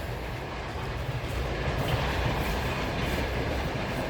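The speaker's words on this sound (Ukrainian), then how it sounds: "Потяг їде он." A passing train rumbles steadily throughout, a dense, continuous roar of rail noise near a backyard poultry enclosure, with no talk over it.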